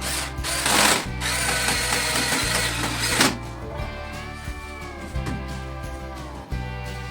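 A power drill drives a mounting screw into a toilet door, whirring in steady bursts with brief pauses between runs, close and fairly loud.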